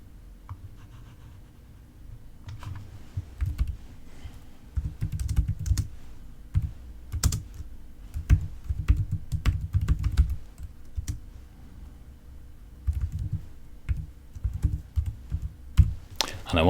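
Computer keyboard typing in bursts of quick clicky keystrokes, moderately close, with short pauses between runs of keys and no talking over them.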